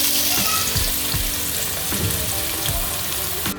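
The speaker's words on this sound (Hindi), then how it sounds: "अभी हम प्याज को लगाएंगे तड़का" Onions sizzle loudly in hot oil for a Pakistani beef karahi, a dense, continuous frying hiss with occasional stirring scrapes and knocks against the pan, close up and with no talking.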